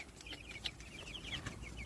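Young chicks in an outdoor chicken tractor on a windy day give soft, scattered high chirps and clucks at moderate distance over a steady bed of wind noise, with no one talking.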